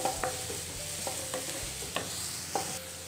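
Onions being sautéed in a pan for a veg momos filling, with a soft, steady sizzle and a few quiet spoon taps and scrapes spaced out across a short stretch.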